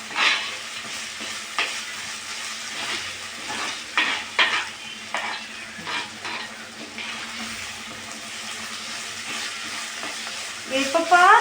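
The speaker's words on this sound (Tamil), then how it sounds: "இப்போ இஞ்சி பூண்டு பச்சை வாசம் வர வரைக்கும் நல்லா வந்து வதக்கணும்" Steady sizzling and frying as ginger garlic paste is sautéed in a pan, with a spatula stirring and scraping at intervals; close and continuous.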